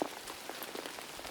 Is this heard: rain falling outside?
yes